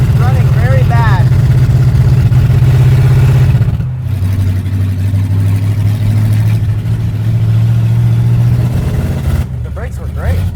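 A 1968 Pontiac Firebird V8 with too much ignition timing idles roughly up close, a loud uneven low rumble that dips and lopes, while people talk nearby.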